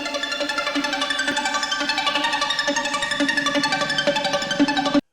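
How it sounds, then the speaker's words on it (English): A synth arpeggio pulses in quick, even repeated notes, moderately loud and alone, for about five seconds before stopping. "Next, I make this ARP."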